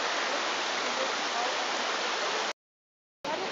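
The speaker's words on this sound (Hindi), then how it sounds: "आबशार आ रही है" Kewaii waterfall pouring down near a roadside restaurant with charpais set below, a steady loud broadband rush of falling water that cuts out briefly near the end before resuming.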